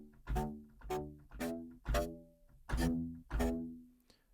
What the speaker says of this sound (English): So it's using this bark cello staccato patch.